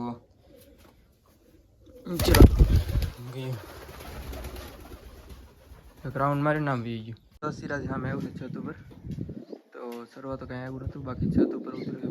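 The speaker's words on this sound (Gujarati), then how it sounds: "બધા કબૂતર તો નીચે આવ્યા છે" Pigeons being fed millet coo softly in the background, mixed with a sharp rustle near the start and someone talking over much of it.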